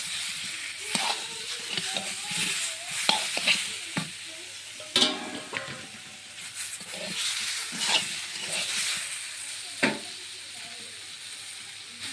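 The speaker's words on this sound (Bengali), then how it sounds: "আর একটু নাড়াচাড়া করে ঢেলে নেব" Food frying in a kadai while a utensil stirs it, with irregular scraping clatters and bursts of sizzling over a quiet hiss, close and moderately loud.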